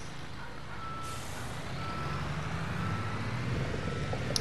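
In the Bau Simulator construction game, a truck reverses with a steady run of reversing beeps over a constant engine rumble, close and moderately loud.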